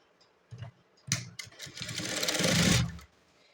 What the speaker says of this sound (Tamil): இப்போ இது வந்து நம்ம தையல் போட்டு எடுத்துடலாம்